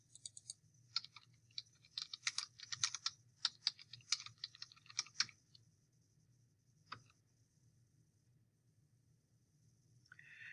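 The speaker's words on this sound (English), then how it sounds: "You type them in the search box separated by the word "and" Search keywords are typed on a computer keyboard in quick, uneven bursts of close, crisp key clicks for about five seconds, then a single isolated click and near silence with faint background hum.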